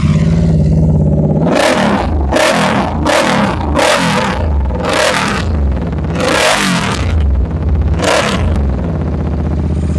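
Royal Enfield GT Continental 650 parallel-twin motorcycle, 12,000 km on the clock, idling loud and close, then given about seven sharp throttle blips in quick succession that roar up and fall back to a steady lumpy idle.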